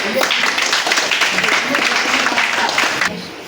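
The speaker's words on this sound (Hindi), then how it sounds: "एक बार जोरदार ताली हो जाए।" At a DXN business gathering in Azamgarh, the audience bursts into loud, dense applause that holds steady and then drops off sharply near the end, with voices mixed in.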